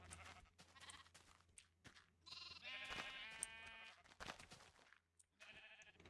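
Sheep bleats from the video game Minecraft, several wavering nasal calls in a row, fairly loud and close, with a brief voice murmuring between them.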